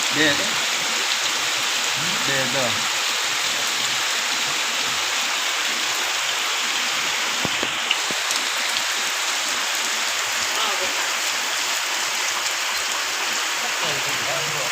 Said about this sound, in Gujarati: ફૂલ વરસાદ કચ્છમાં તારીખ કઈ છે